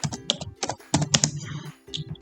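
Fingers type on a computer keyboard, a close, crisp run of uneven key clicks with short pauses between bursts, no voices.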